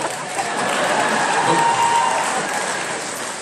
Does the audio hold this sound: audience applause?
yes